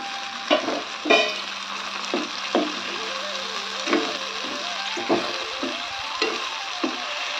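Potatoes dropped into hot oil in a kadhai, a close steady sizzle broken by repeated sharp clinks and scrapes of a spoon stirring against the pan.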